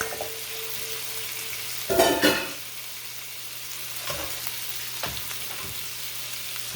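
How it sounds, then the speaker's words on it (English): Goat meat fries in a pan with plenty of fat for a curry, a steady low sizzle with a louder burst of crackling as it is stirred, then quieter scrapes and hisses. "A lot of fat in the pan when it's frying up something like meat"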